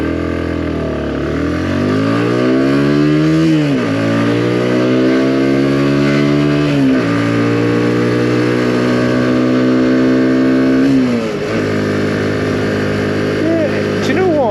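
A Keeway RKR 125 motorcycle engine drones steadily while riding, its pitch climbing through each gear and dropping with every shift, loud and continuous with wind noise underneath.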